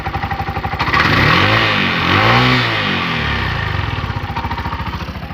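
Bajaj auto LPG pickup engine running at a steady, loud and close drone, with a rising and falling pitch as it revs through the middle, then settling back to an even throb.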